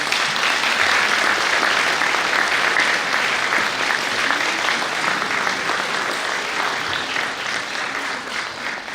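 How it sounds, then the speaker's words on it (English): Graduates at a 2018 university graduation ceremony clap together in a hall, a thick, sustained round of applause that stays loud and tapers gently toward the end. "So a round of applause, please, from the graduates."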